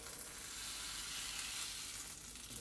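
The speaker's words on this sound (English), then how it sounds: "You can hear it sizzling." Cheesy Alfredo sauce sizzles in a pan on a stovetop, a steady close hissing crackle that stays loud and even throughout with no talking.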